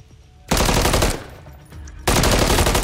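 Call of Duty gunfire: two loud, sustained bursts of rapid automatic fire, with a quieter stretch of game noise in between.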